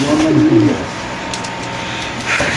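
White Bombay pigeons coo at a pigeon market, a low throaty cooing in the first second over steady crowd and market bustle, with a brief higher call near the end.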